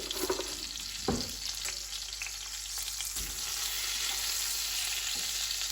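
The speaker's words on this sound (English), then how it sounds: "keep an eye on the schnitzel as it cooks" Zagreb-style schnitzel frying in a pan, a steady close sizzle that swells slightly toward the end, with a couple of brief clunks from the pan or utensil, no talking.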